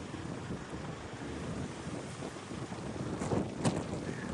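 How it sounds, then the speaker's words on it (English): Strong, violent wind from Storm Darragh in the UK roars steadily and buffets the microphone in loud gusts, building to harder blasts near the end, with no voices. "The wind is so violent, I'm struggling to keep it still."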